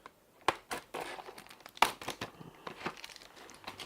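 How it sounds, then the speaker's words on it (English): Tape peeled and crinkled off a set of taped-together Intel Xeon Gold 6138 CPUs, several short tearing and crackling bursts up close with no talk. "So we'll just untape these from each other."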